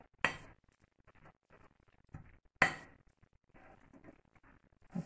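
Garlic being stirred with salt in a bowl, faint scraping and a few sharp clinks of a utensil against the bowl at irregular intervals, close and quiet with no talk.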